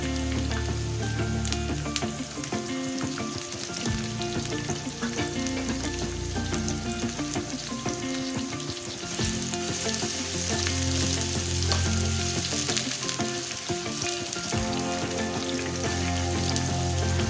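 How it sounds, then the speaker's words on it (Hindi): Onions fry in hot oil in a pan on a stove, giving a dense, steady sizzle and crackle with occasional stirring scrapes, close up and with no talking. "अब मैं इसमें ऑयल शामिल करूंगी। प्याज शामिल करूंगी इसमें,"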